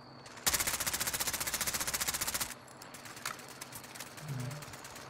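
Rapid automatic rifle fire in Call of Duty: Warzone, shooting to destroy a trophy system: a fast, even burst of about two seconds at close range, followed by scattered softer clicks and impacts.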